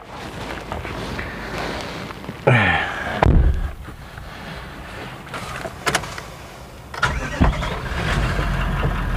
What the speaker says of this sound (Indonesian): Kelihatan ya, suara mesinnya, turbo dieselnya ya 4500 cc V8, begini suaranya.